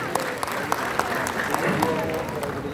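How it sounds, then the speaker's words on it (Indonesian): An audience claps at a launch event, with quick, rhythmic hand claps going on under a voice speaking over a sound system. "Aplaus sekali lagi yang keras untuk Anda semua."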